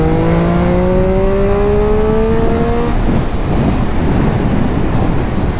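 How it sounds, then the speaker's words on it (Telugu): A 120 bhp motorcycle accelerates hard, its engine note climbing steadily in pitch for about three seconds before fading into heavy wind rush, with no talk. "ఇప్పుడు చూడండి, just with in no time దీని యాక్సిలరేషన్ ఈ విధంగా ఉంటాయి."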